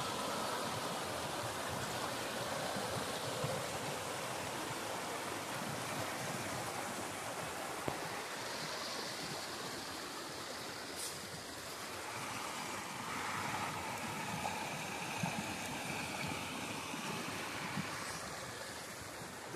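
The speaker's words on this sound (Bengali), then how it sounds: "দেখেছো কেমন জলটা যাচ্ছে" A mountain stream rushes in a continuous, even wash of water noise, fairly faint and unbroken, with no voices.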